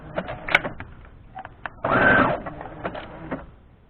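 A sewing machine stitches quilt strips for a jelly-roll pattern along a drawn pen line, a short burst of rapid mechanical whirring amid scattered light clicks and taps.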